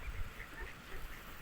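Ducks being fed grain give a few soft, faint quacks and honks over a low background rumble, with no talking.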